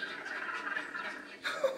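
A baby Rhamphorhynchus in the Path of Titans video game makes its friendly call, a short run of chirpy, chuckling squeaks that ends with a brief higher trill, heard close and alone.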